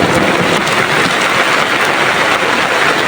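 Heavy rain pours down loudly and continuously at a fish pond, a dense, close hiss of drops drumming on surfaces with no pauses.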